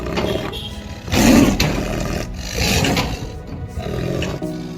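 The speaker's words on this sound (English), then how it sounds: "This rare Amur tiger was relocated after preying on village dogs." An Amur tiger released into protected wilderness gives several deep, close roars in bursts of about a second, separated by brief pauses.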